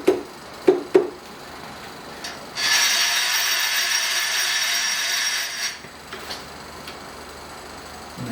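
A milling machine vise jaw is tightened onto a part, starting with a few sharp metallic clicks, then a sustained ratcheting, grinding turn for a few seconds, followed by faint taps, close by.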